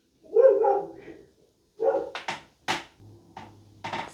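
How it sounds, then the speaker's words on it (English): Dog barking at the mail carrier from inside a home, a few separate barks and yips spaced over a few seconds, fairly close with quiet gaps between them. "dog's barking at the mail lady probably."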